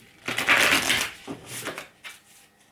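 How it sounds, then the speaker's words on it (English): Oracle cards are shuffled by hand close up in two or three quick riffling, crackling bursts separated by short pauses, with no talking. "Let's give these a shuffle."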